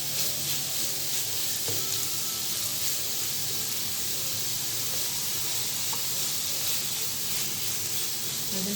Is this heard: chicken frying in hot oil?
yes